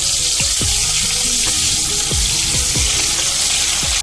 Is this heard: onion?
yes